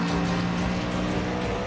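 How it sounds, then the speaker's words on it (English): NASCAR race cars sit idling in a racing video game, a steady, continuous low engine drone with no voices. "Some cars on idle."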